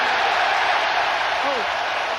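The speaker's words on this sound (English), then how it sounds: "the reaction from the crowd was so hilarious, I wanted you all to hear it" Football stadium crowd roaring and murmuring in a broad, sustained wash of noise reacting to a referee's pass interference penalty call, steady and loud for two seconds with a faint whistle-like tone mid-way.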